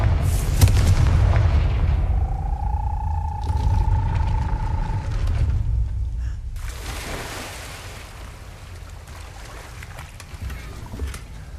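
Spell blasts from the Confringo blasting curse in Hogwarts Legacy sound as loud booming explosions, one early heavy burst and another near the middle, with a rumbling low tail and a brief tonal whine between.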